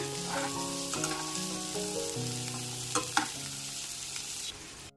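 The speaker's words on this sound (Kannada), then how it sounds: "ಈಗ ಇದಾಗಿದೆ ಹಾಗಾಗಿ ನಾನು ಇಂಥ ಟೈಮಲ್ಲಿ ಅವರೆಕಾಳು ಹಾಕೋತಾ ಇದ್ದೀನಿ ಇದರಲ್ಲಿ ಸ್ವಲ್ಪ ಹಸಿ ವಾಸನೆ ಹೋಗೋವರೆಗೂ ಹುರ್ಕೋಬೇಕಾಗತ್ತೆ" Field beans (avarekalu) frying in a pan, a continuous close sizzle with a couple of sharp spoon knocks near the end, no talking; a faint steady tone sits underneath.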